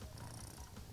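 A cat purrs in the game Crash Bandicoot N. Sane Trilogy, a brief, steady, close rumbling purr heard alone.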